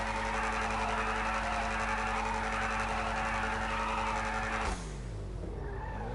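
Ocelot XA-21 supercar V8 engine in a video game, loud sustained revving with a steady droning tone that drops off sharply near the end into a descending whine, no talking.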